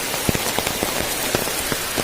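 Heavy monsoon rain pours down in Goa, a dense, steady hiss with scattered louder drops splashing close by, and no voices over it.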